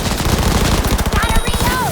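Rapid automatic gunfire from a firefight in the video game Cyberpunk 2077: Phantom Liberty, loud and continuous bursts over a dense game soundtrack for about two seconds.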